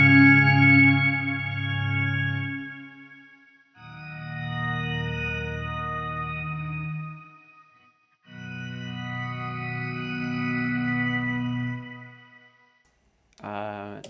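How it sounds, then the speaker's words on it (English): A guitar through an organ effect pedal with added reverb plays three sustained organ-like chord phrases, each swelling and trailing off into a reverberant tail, with a short bright burst at the very end. "Now let's just add some bit of reverb onto that."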